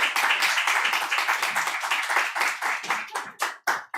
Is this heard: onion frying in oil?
no